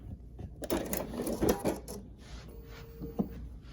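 A Bernina 770QE sewing machine back stitching, its needle running in short mechanical bursts that pause and restart, close and moderately loud, followed by a brief click.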